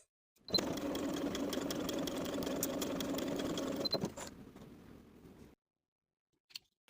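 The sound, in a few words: sewing machine stitching a bodice dart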